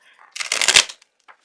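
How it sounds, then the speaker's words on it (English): Tarot cards being shuffled up close, a quick burst of riffling flutter lasting about half a second, then a faint soft tap afterward. "I might just fast forward through all the shuffling"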